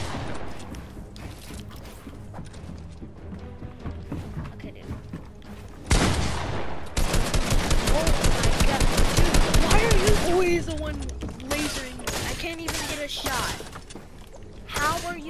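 Rapid bursts of video game gunfire during a box fight, loud and dense, with a sustained volley of quick repeated shots in the middle, under ongoing talk and game sounds.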